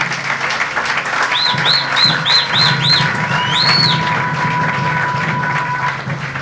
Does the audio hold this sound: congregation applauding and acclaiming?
yes